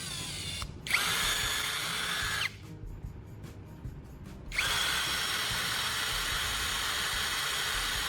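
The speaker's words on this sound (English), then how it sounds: "Next, I'll grind one end of the battery core to make a better contact surface for welding." A power tool grinds one end of a battery core for a DIY spark-plug welder, a steady close whirring grind that stops briefly midway, then resumes at full strength.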